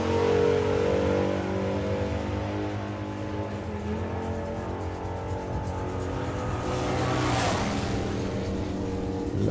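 A drag racing car's engine roars continuously, loud and dense, with the throttle rising and easing as the driver goes on and off it, swelling again near the end.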